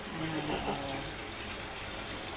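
Tap water running steadily into a sink while dishes are washed, a close continuous rushing flow under a speaking voice.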